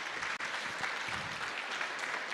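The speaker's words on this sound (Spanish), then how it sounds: "Aplauden entonces de nuevo." Applause from a church congregation during a Sunday service in Aymara, a steady, dense wash of clapping hands filling the room for a couple of seconds with no voices over it.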